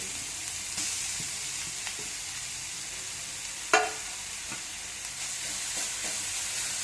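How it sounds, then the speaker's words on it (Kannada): Grated carrot frying in ghee for carrot halwa, a steady bright sizzle throughout with a brief clatter of stirring midway, no voices. "ಸ್ವಲ್ಪ ತುಪ್ಪದಲ್ಲಿ ಚೆನ್ನಾಗಿ ಹುರ್ಕೊಳ್ಳಿ"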